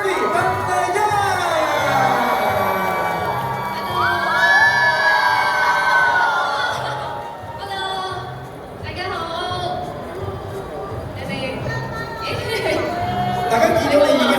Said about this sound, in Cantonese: 請大家用最熱烈嘅掌聲加歡呼聲歡迎我哋嘅嘉賓 Stuffy 鄧麗欣。